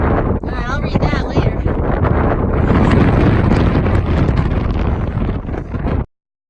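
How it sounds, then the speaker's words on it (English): Strong wind buffets a handheld camera's microphone on a mountain trail, a loud, continuous roaring rumble with gusty surges, and a voice is faintly heard under it before it cuts off. "the wind almost takes the camera right out of my hand"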